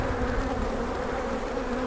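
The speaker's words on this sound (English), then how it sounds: "I've never seen bees act this way." Agitated bees drone loudly and continuously close by, a dense, tense buzz with a strong steady tone and no voices.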